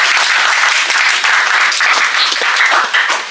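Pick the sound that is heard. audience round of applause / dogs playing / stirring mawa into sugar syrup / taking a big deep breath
audience round of applause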